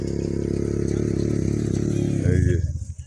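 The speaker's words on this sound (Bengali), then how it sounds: "এই সবাই বাইক চালাচ্ছে," Motorcycles rumble past nearby with steady low engine drone, rising briefly in a revving surge near the end, with a person talking over the noise.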